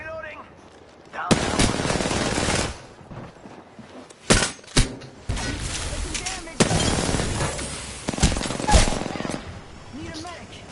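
Gunfire in a PS4 shooter, with loud bursts of automatic fire and sharp single shots in several separate volleys across the stretch, up close and dominating.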